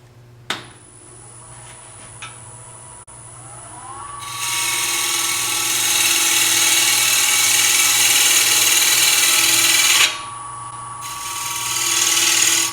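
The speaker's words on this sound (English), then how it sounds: "I'm going to do a little sanding right here while I'm at it." A power sander whirs on after a few clicks, sanding the wooden lid of a box, running steady and loud for several seconds, stopping briefly, then starting again.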